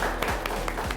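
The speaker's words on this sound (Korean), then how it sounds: "박수로 마무리하겠습니다." A small studio group claps to close an online current-affairs broadcast. About four evenly spaced claps sound in one second, close and moderately loud.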